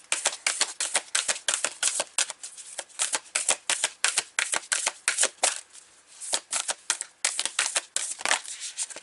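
A deck of cards shuffled by hand close up, rapid riffling bursts of crisp flutter repeating steadily, with brief pauses between shuffles and no talking.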